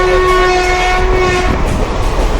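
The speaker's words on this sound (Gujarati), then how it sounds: "અમે ટ્રેનમાં નીકળી ગયા છે" A moving train from Porbandar to Jamjodhpur rumbles loudly and steadily nearby, its horn sounding a sustained tone before fading into the rolling noise of the carriages.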